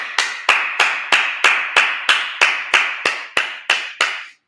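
Single person clapping slowly and evenly during a Sabbath service, about a dozen loud, close, sharp claps at a steady rhythm, each with a short ringing tail, then silence.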